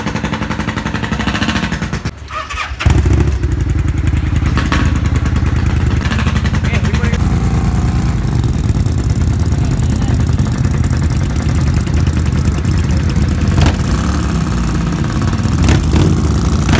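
A motorcycle engine fires up after a brief pause and settles into a loud, steady idle with a rapid, rumbling pulse, heard close by with some talk around it.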